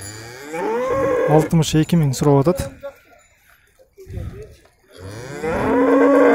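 Cattle with calves mooing at a livestock market, loud deep bellowing calls repeated several times close by, broken by a quiet gap with a brief low sound, with someone talking over and between the moos.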